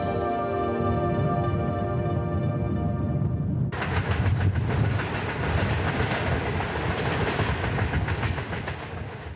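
Train travelling through Inner Mongolia, China, on the six-hour rail journey from Hohhot: a steady, close rumble with rhythmic wheel clatter, a sustained horn tone at the start before it cuts to dense rolling noise.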